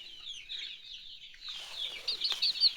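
Native country chickens, which have a health problem, clucking and chirping softly nearby, a continuous run of short calls that grows busier and a little louder toward the end.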